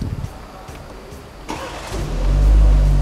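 A 2000cc four-cylinder 430 convertible with an eight-speed Steptronic gearbox cranks and fires up, then revs loudly and close by, the engine note swelling into a deep sustained roar toward the end, with brief voices at the start.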